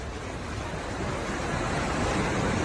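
Tsunami seawater surges into a city after an Aegean Sea earthquake, a loud, unbroken roar of rushing water and wind-like noise that swells slightly toward the end.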